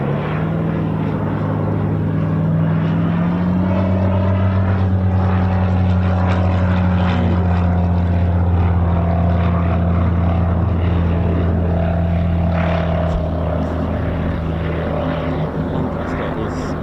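A Battle of Britain Memorial Flight propeller aircraft drones loudly and steadily at RAF Coningsby, its engine pitch shifting slowly as it passes, with a commentator talking over it.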